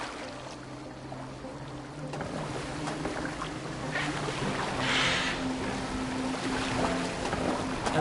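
Boat gliding over water in Assassin's Creed Valhalla, with soft continuous splashing and lapping against the hull, a low steady hum underneath and a brief louder swash midway.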